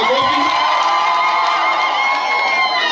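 Crowd cheering and applauding at an outdoor public meeting with residents in Igembe North, loud sustained whoops and shouts filling the whole moment.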